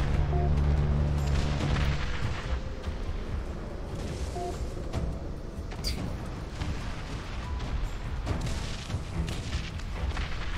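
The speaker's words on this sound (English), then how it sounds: "And now my plane is shaking because of the explosions." Explosions in the aerial combat video game Project Wingman: a continuous heavy rumble of booms and blasts, loud at the start and then holding a dense, roaring wash throughout.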